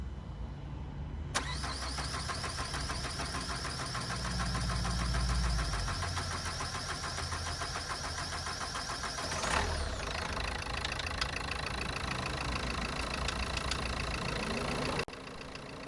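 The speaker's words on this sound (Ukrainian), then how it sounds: "Все, що залишається, це завести двигун і перевірити," Renault 1.5 dCi K9K diesel engine with a new valve cover gasket cranks for about a second, then catches and settles into a steady, loud, close diesel idle with a knocking clatter, and a brief rev near the middle.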